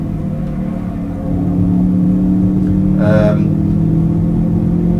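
Toyota GT86 engine in the racing game Assetto Corsa, a steady low drone held throughout and rising in level partway, with someone talking over it.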